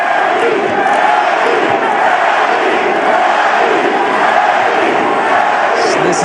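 A large boxing crowd at a Pacquiao vs Barrios fight roars and cheers continuously, a dense, loud wall of voices that holds steady throughout.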